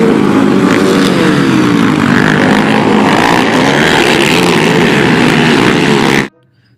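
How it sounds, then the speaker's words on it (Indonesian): An ATV quad bike engine runs steadily and loudly up close, with a continuous buzzing drone that holds for about six seconds before cutting off abruptly. "yang ini motor ATV teman-teman"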